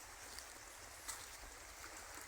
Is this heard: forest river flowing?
yes